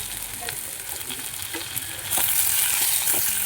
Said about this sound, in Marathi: कांदा तेलात छान फ्राय करून घ्यायचा लालसर होईपर्यंत